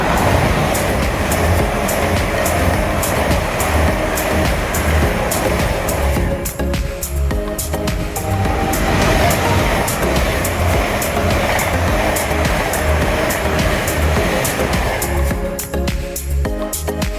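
An LNER Azuma train rumbles and squeals steadily past at close range as it pulls into a station platform, with rhythmic clacks of wheels over rail joints, loud and continuous throughout.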